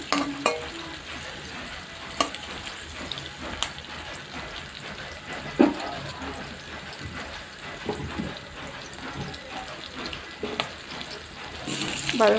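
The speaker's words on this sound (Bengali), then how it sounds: "দেখো, আমি ওটা ভেজে নিচ্ছি লাল লাল করে।" Food frying to a reddish brown in a pan makes a continuous close sizzle, with scattered stirring knocks and scrapes throughout.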